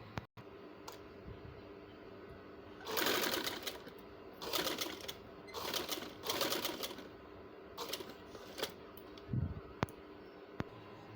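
Sewing machine stitching cut-work trouser fabric, running in several short bursts of rapid mechanical clatter separated by pauses, with faint clicks between runs and no talk.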